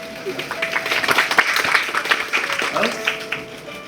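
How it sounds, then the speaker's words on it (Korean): Applause at a curtain-call stage greeting for the musical Dry Flower, with sharp individual claps standing out in a lively, uneven burst while people talk over it. "축하드립니다. 박수!"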